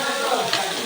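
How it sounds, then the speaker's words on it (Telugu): Fish pieces added to hot oil with ginger and turmeric, giving a loud, steady, close sizzle of frying with a faint stir midway. "ఇప్పుడు చేప ముక్కలు కూడా వేసుకోవాలి. ముక్కలు కూడా నూనెలో కలిపేసి"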